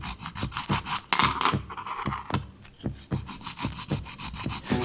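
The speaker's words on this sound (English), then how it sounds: "Let's try the scraper this time, and I'll let this run so you can see how it goes." A scraper rasps repeatedly across a floor, clearing excess repair compound from a Parkside PFRS 1.5 C5 floor repair kit, in quick rhythmic scraping strokes with a short pause midway, close and fairly quiet.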